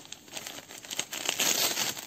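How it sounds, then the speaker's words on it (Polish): Gift wrapping paper being torn off a present by a child at home, a run of crinkling, ripping bursts that grow denser and louder toward the end, close by with no talk. "A teraz Justynka, porwij papier"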